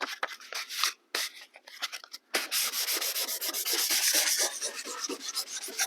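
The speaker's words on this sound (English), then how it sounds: "Just a really light sanding." Light hand sanding with 320-grit paper during cabinet building, a series of quick rhythmic rubbing strokes, briefly pausing then resuming in a steady close back-and-forth scrub.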